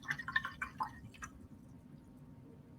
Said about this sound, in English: And I'm going to rinse my brush.